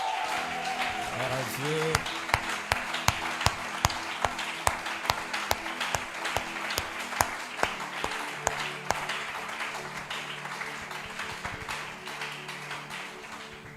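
A church congregation applauds and claps loudly in praise of the Lord, with a steady wash of clapping and sharp accents running throughout, mixed with cheering voices and a person speaking over it.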